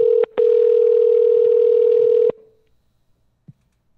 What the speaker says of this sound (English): This agent's job is to answer phone calls at night from people who hadn't.